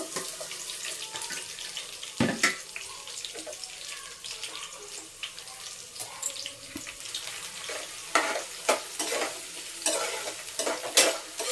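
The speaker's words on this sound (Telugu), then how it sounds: "ఇప్పుడు ఆయిల్ వేడెక్కింది కదా ఉల్లిపాయ పచ్చిమిర్చి వేసేస్తున్నాను" Onion and green chillies frying in heated oil for a chicken gravy curry, a fairly quiet sizzle broken by spoon scrapes and clinks against the pan, close and intermittent.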